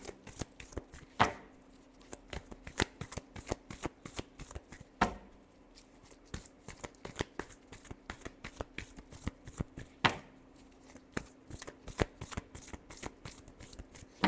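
Tarot cards are shuffled by hand in a long run of quick riffling flicks, steady and close, with a few louder slaps between, and no talking.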